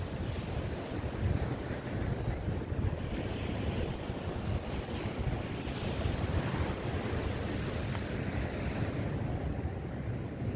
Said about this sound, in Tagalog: Yung malaki ang alon eh.